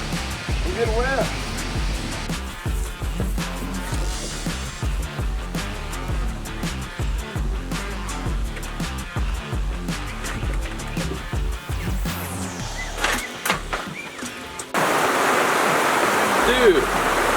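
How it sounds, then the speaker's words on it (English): Heavy rain pours steadily onto a canopy tent outside a yurt, a dense continuous hiss and patter with irregular thumps and knocks, then a louder, brighter roar of downpour near the end. "It's pouring down now."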